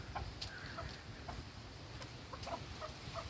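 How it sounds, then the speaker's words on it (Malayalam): Native speckled hens cluck softly and intermittently at a home poultry setup, scattered short calls at moderate distance over a low background hum. "അധികമുള്ളതൊക്കെ പുള്ളിക്കോഴിക്കളാണ്."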